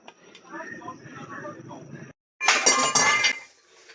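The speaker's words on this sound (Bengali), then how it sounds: "দুধটা এখন অনেক বেশি তাই আরও নাড়াচাড়া দিতে থাকবো" Milk rice pudding (payesh) stirred in a pot, with a spoon clinking and scraping against the metal in a bright, clattering burst after a stretch of someone talking.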